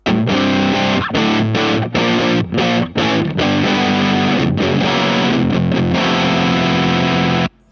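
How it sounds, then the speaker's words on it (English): Electric guitar through an IK Multimedia X-Drive pedal on an angry overdrive setting, a loud, saturated, aggressive distorted tone played as choppy chords with brief gaps, then stopping abruptly near the end. "I kind of see it as like an angry overdrive, that sound."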